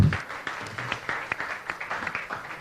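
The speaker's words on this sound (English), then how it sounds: "Yes, applaud." An audience at a political luncheon in Wisconsin applauds briefly, with scattered, fairly light claps rising and fading over a couple of seconds.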